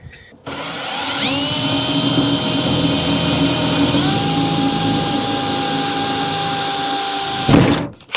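A power drill whines at high speed, biting into metal with a steady shrill tone that shifts once, then winds down abruptly at the end.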